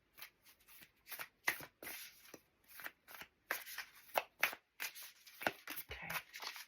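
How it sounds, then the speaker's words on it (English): Tarot cards being shuffled by hand, a close series of crisp riffling and slapping bursts with brief gaps, quiet and steady, no talking. "I'm just shuffling the cards."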